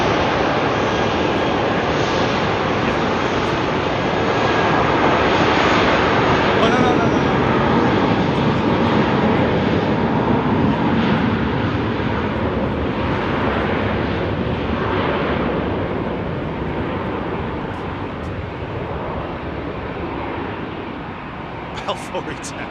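An Airbus A319 jet departs Heathrow with a loud, sustained engine roar that builds, holds and slowly fades over about twenty seconds, with talk running over it.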